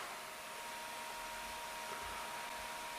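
An old AMD K8-era desktop computer's cooling fan running after power-on, a steady, faint whirring hum and airy hiss that holds constant throughout, no talking.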